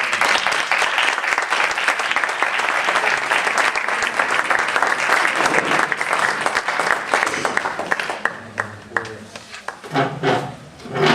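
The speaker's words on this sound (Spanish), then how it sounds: "Ahora sí que vamos a aplaudir" A school debate audience of families and friends claps loudly and steadily for about eight seconds, then the applause thins into scattered claps and murmuring voices as it fades.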